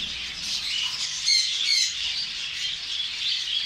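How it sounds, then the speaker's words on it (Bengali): Many birds squawk and chirp together in a crowded bird shop in Buraidah, Al-Qassim, Saudi Arabia, a continuous shrill chorus with sharper calls rising above it, no voices. "সৌদি আরব আল কাসিম বুরাইদে একটি পাখির দোকান। মাশাআল্লাহ, অনেক সুন্দর সুন্দর পাখি।"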